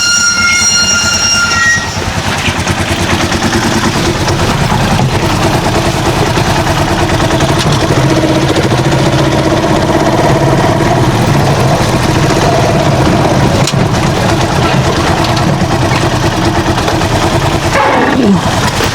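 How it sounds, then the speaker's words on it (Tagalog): A freshly tuned-up vehicle engine idles loudly and steadily up close, a constant rough drone with a brief high squeal near the end. "Okay, tining pa ng makina natin."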